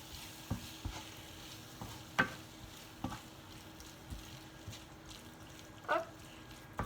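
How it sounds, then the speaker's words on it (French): A spoon mixes grated cheese into a minced meat and potato filling in a pan, with repeated soft scrapes and knocks over a low sizzle and no voices. "On mélange le tout."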